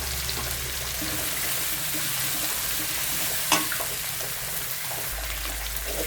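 Curry leaves fry in a pan while being stirred, producing a steady hiss and sizzle with a soft scraping clatter midway through.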